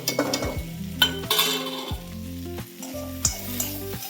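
Ginger garlic paste, onion and capsicum fry in a spoonful of ghee, a crisp close sizzle broken by repeated metallic clinks and scrapes of a spoon against the pan.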